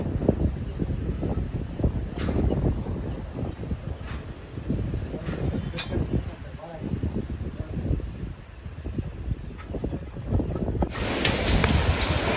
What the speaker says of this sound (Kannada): ಫುಲ್ ಗಾಳಿ ಬರ್ತಾ ಇದೆ